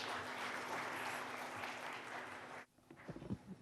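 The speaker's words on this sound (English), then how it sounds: "Can we have a warm round of applause" An audience at the India Today Conclave applauds ministers Kiren Rijiju and Anurag Thakur. There is a steady, fairly distant round of clapping for about two and a half seconds, which then stops abruptly, leaving faint shuffling and room noise.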